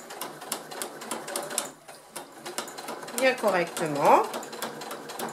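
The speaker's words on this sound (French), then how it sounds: "je continue ma couture" A domestic sewing machine stitches piping on a fabric jewellery box in quick rattling bursts with brief pauses, close by, while someone speaks French over it.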